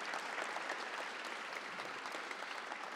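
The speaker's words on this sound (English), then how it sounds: "Give them a nice round of applause." Steady applause from an audience at a transit agency press briefing honoring frontline staff, a dense even patter of many hands sustained throughout at moderate volume.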